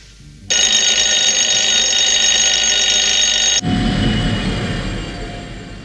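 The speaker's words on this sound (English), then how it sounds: "Do you know what you need?" An alarm clock rings loudly in a steady, continuous electronic tone for about three seconds, then cuts off abruptly, leaving a low rumbling background noise.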